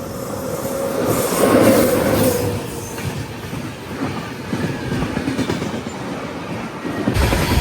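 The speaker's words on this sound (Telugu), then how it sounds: "ఇప్పుడే స్పీడ్ అయితే అందుకుంటుంది ట్రైన్" The Kacheguda Weekly Express, an Indian Railways train from Madurai to Kacheguda, picks up speed with rumbling wheels, rhythmic clickety-clack over the rails and thin wheel squeals, heard from on board.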